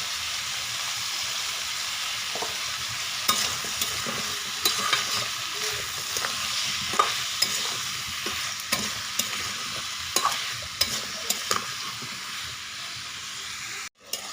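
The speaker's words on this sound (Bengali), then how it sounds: "সবজিগুলো ভাজা হয়ে গেছে" Vegetables with salt and turmeric stir-fried in oil, a steady close sizzle broken by regular scraping and stirring strokes of a spatula against the pan.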